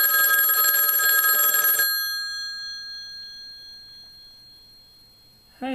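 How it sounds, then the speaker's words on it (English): A telephone rings on an outgoing call: a steady electronic ring tone fills the first couple of seconds, then cuts off and fades into near silence before a voice begins at the very end. "I'm gonna call him, and if he picks up,"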